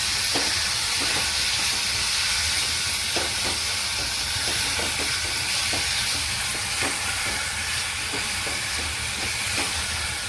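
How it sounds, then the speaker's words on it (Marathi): Black pepper powder and coriander powder fried in hot oil while being stirred, a steady dense sizzle with light scraping stirs recurring throughout, close and continuous. "आणि काळी मिरी पावडर हे आपण चांगलं तेलावर परतून घेऊया"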